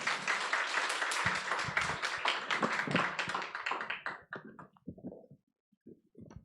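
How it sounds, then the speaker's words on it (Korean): A church congregation applauds to welcome a visiting missionary, broad dense clapping that fills the first four seconds and then thins to a few scattered claps before fading out. "박수로 맞아주세요."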